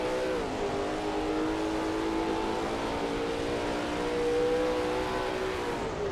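A Lola T70 MkII Spyder race car in a racing video game powers through a curve at Brands Hatch GP, its engine a steady, loud, near drone with shifting harmonic pitch as revs rise and settle, alone without talk.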